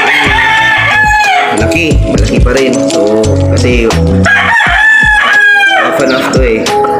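A half Asil, half Gilmore hybrid rooster crows close by in loud, drawn-out calls while someone talks over and between them.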